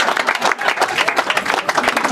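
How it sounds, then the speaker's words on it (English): Audience at a live stand-up comedy show bursting into applause, loud close clapping from many hands with crowd noise mixed in, lasting a couple of seconds. "Applause break for that."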